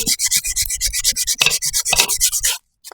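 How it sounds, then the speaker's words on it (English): Rhythmic hand sanding on wooden spatulas, a loud gritty rasp in quick back-and-forth strokes, close up, stopping abruptly at the end. "They just need sanding. You use like a random orbital or hand sand."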